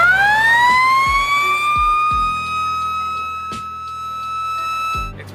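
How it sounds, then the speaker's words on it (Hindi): A loud blasting van siren at an opencast mine wails with a steady rising-and-holding tone, punctuated by a few sharp thuds and clanks in the background. "ब्लास्टिंग वैन में लगे हुए सायरन को 1-1 मिनट के अंतराल में 3 बार बजाते हैं।"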